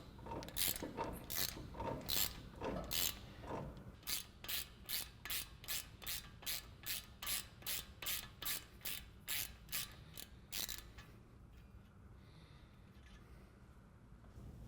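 A hand ratchet with a 13mm socket loosening a front suspension nut on a 2015-2020 Ford F-150, heard as a steady run of sharp, evenly spaced clicks up close that speeds up, then stops and leaves quiet shop noise.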